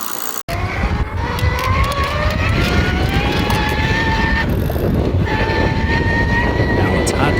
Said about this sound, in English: if your motor's still running okay, but it's making an excessive amount of noise, that usually means you might have dry or worn out gears